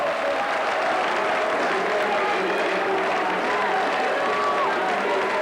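A rugby league crowd at Bramley versus Workington Town roars with continuous cheering and applause at the final hooter, a dense, loud wash of noise throughout.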